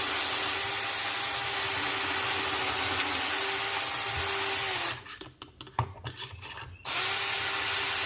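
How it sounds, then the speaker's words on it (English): Power drill boring into clamped pallet wood, a loud steady whine that drops out briefly for a few seconds of scraping and handling before the motor resumes. "just drill right into it."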